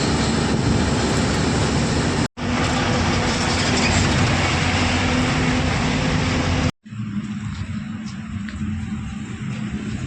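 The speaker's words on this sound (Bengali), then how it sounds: "বাঁ সাইডে যাচ্ছে ট্রেন" A train runs alongside on the Farakka bridge, heard from a truck crossing the river as a loud, continuous rushing rumble with two brief dropouts and a thinner, quieter stretch at the end.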